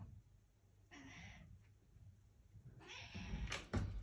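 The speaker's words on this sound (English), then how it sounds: "She's been meowing at you since you've been in there." A black cat meows softly nearby, a couple of short, faint calls over a quiet room background, followed by a brief bump like a cupboard or door.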